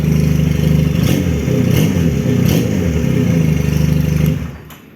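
A Benelli Patagonian Eagle motorcycle engine idles and is revved in several quick blips, loud and close, before it cuts off at the end.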